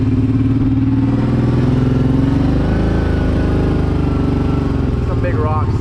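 A Brute Force 750 ATV with a Big Gun mod and a lifted Elka Stage 3 suspension rides in 2-wheel drive over rocky ground. Its engine drones loud and close with shifting throttle, alone without speech.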